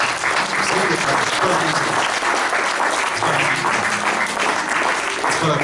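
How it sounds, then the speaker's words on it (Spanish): Church congregation gives a strong round of applause, dense and loud continuous clapping filling the room, with faint voices mixed underneath. "Y recibe un fuerte aplauso de tu iglesia."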